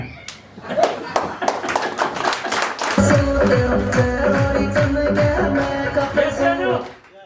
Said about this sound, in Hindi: ताली बजाना पड़ेगा